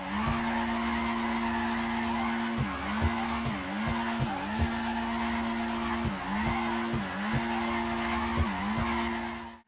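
A car drifting in the video game GTA 5, repeated tire squeals rising and dipping in a rhythmic pattern over a steady engine drone, loud and continuous with no talking.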